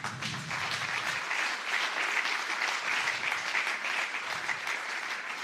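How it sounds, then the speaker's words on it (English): Conference attendees at the Urban X Change Network closing event applaud a speaker from Ukraine as he comes to the front. A crowd claps in a steady, even roar that holds at a constant level throughout. "as you give him a big applause"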